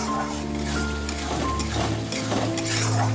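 Eggplant pieces added one by one to cooking masala in a pan for begun masala: metal utensil clinks and scrapes against the pan over a steady background sizzle.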